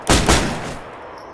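Shotgun firing in the survival game DayZ: two quick, loud close blasts a fraction of a second apart, each with a booming tail that fades out within a second.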